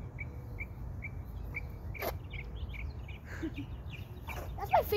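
Short, thin bird chirps repeat faintly at a steady pace over a low background hum, with a few sharper calls mixed in.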